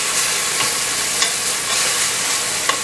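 Tripe sautéed with cumin in a pan sends up a loud, dense, continuous hiss of frying, with a few faint stirring taps spread through it and no voices.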